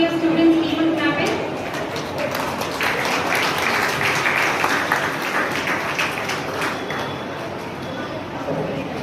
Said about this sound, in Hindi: It has to be continuous, students even clapping.